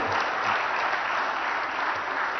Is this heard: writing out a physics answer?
no